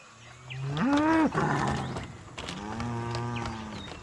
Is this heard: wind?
no